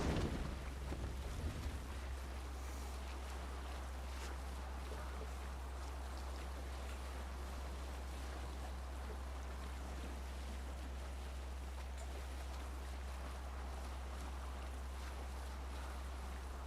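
A Viking sailing boat cuts through open water in Assassin's Creed, with a steady wash of waves and wind around the hull, a few louder splashes at the start, then constant broadband rushing and no voices.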